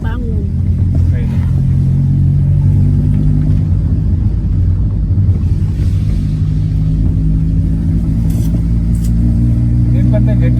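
A motorized tricycle's engine runs with a steady, loud, low rumble throughout. People talk over the drone.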